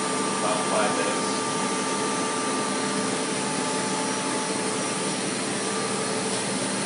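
A Creo CTP platesetter runs with a steady, loud mechanical whir and airy hum as it moves a printing plate toward the processor, the drone holding even throughout.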